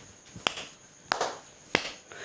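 Three sharp slaps of a hand striking a hard surface, spaced about half a second apart, close and fairly quiet.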